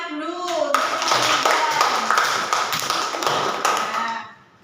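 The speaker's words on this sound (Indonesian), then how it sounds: "Tepuk tangan dulu." Children clapping their hands together in a classroom, a burst of brisk, fairly close claps lasting several seconds before stopping abruptly, with a voice heard briefly before the clapping begins.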